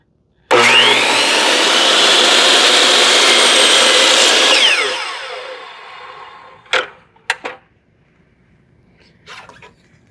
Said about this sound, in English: turn the saw on, carefully make your cut